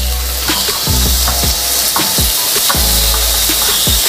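A lamb chop sizzles on a grill beside noodle soup in a steady broadband hiss, punctuated by sharp scraping and tapping clicks roughly every half second as it is moved and flipped.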